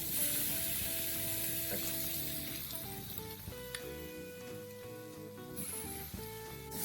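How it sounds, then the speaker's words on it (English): Burger patties for Cajun cheeseburgers sizzle steadily on a hot grill, a continuous close frying hiss with faint tonal hums from nearby equipment in the background, and no talking. "You hear that sizzle?"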